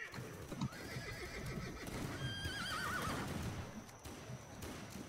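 Horses in a multiplayer video game battle near a windmill camp whinny in a long, wavering neigh over a background clatter of hooves and combat noise, with another brief whinny earlier.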